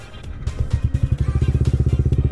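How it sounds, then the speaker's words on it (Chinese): A modified Yamaha R15 V3 with a full replacement ARacer RC Super 2 ECU idles warm at about 2000 rpm. The engine gives a close, loud, rapid and evenly pulsing throb that settles into a steady beat. "它的怠速转速啊，直接从原厂的1000多转拉升到2000转左右"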